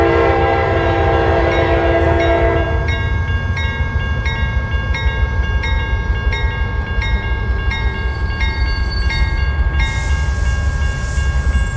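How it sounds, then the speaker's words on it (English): A train passes a road crossing in American Truck Simulator, set in Washington, with a loud, sustained horn blast over steady rumbling and clatter of rail cars running throughout. "Oh, there's a train."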